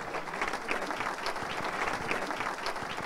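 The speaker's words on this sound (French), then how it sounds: "On peut l'applaudir une dernière fois pour l'encourager" An audience at a charity conference claps for a speaker, a dense, even round of applause from many hands that stays steady for the whole stretch, fairly near and without voices over it.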